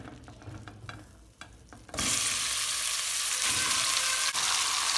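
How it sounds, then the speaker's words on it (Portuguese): Quiet clinks and scrapes in a pot, then a sudden loud, steady sizzle of 1 kg of lean ground beef frying as it is stirred. "Enquanto ela vai fritando, eu vou mexendo."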